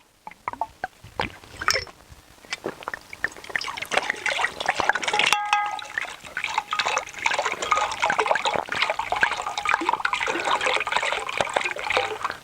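Water splashes and trickles in a container holding about a litre, with scattered drips at first building into continuous bubbling and sloshing, moderately close and with no voices.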